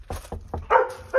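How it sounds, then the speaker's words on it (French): A dog barks in the Pokémon Yellow video game, a quick series of about five short yapping barks, close and clear with no voices over them. "il y a un chien."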